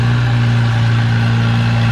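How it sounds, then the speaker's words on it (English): A Farmall C tractor engine, rebuilt after blowing up, runs at a tractor pull with a loud, steady, low mechanical drone, heard close and alone. "first tractor is a Farmall C"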